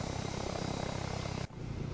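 An aircraft engine in the Arma 3 video game drones steadily and loudly throughout, a dense continuous roar with a brief dip near the middle before resuming at full strength.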